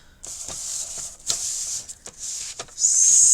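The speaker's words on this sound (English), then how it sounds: "I'll cut my others on my little paper trimmer." Paper sliding through a small paper trimmer for a chunky flap journal: a steady close scraping swish broken by several short sharp snips, ending in a louder hiss.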